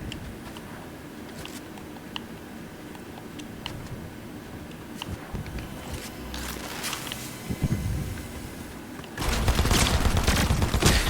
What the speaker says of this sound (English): Like 50 bullets fire at once, bro.